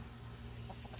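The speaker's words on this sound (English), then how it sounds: "Hey, baby chicks. Here's the baby chicks." Baby chicks at a farm kept with laying hens cheep and cluck faintly, soft scattered calls heard close but at low level.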